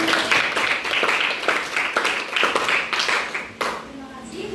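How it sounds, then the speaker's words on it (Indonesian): A school debate audience claps in uneven bursts, with close, moderately loud hand claps that fade out near the end while voices murmur underneath. "Boleh berikan tepuk tangannya dulu."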